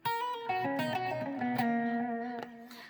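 A distorted electric guitar plays a short minor lick, one note hammered on smoothly into the next and ringing out, with no talking.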